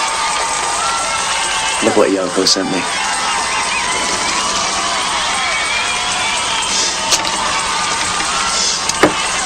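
A concert crowd roars and cheers steadily in the distance, a continuous wash of noise that runs the whole time, while someone speaks briefly over it near the start.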